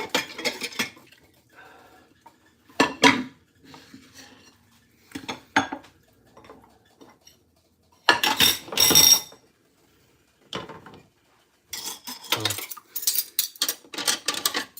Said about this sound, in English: I might as well go ahead and get these, you know, some dishes washed